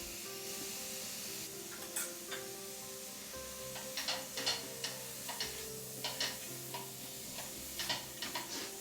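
Onions fry with red chili, turmeric and coriander powder in a pan, a soft steady sizzle broken by a series of sharp spoon taps and scrapes as the mixture is stirred, close by, with no talking.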